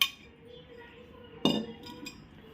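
A metal spoon clinks sharply against a pot as two spoonfuls of yogurt go into mango kadhi. One bright clink is followed by a couple of lighter taps in a quiet kitchen.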